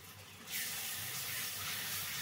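Onions frying in a pan with ginger-garlic paste and cumin-coriander paste, a steady close sizzle and hiss that swells louder after a moment and holds.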